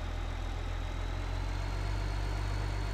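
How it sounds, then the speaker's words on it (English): A small tractor in Farming Simulator 2015 on Xbox One idles with a steady, loud, low rumble that holds without change the whole time. "I usually like to just try to keep this little tractor over here because, as you can see, it's not the fastest thing in the planet."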